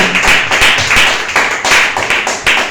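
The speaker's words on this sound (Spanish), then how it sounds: "Denle una ofrenda de palmas al Espíritu Santo, aleluya." A church congregation claps hands in unison during a Spanish-language worship service, a steady rhythmic beat of loud, close claps, roughly three to four per second, with no talk over it.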